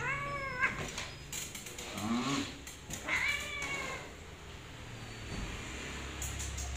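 A cat meows several times in short, rising and falling cries, fairly close but soft, with quiet rustling and handling noises between the calls.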